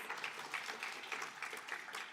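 A graduation ceremony audience keeps up steady, faint, distant applause for a couple of seconds, the many claps blending into one even wash with no voices standing out.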